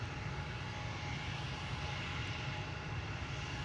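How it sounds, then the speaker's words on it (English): A KLM Boeing 737-800 jet departing Amsterdam Schiphol, a steady broad engine roar at moderate distance, continuous and even throughout with no talking. "This is KLM flight 1431 to Lyon, 737-800"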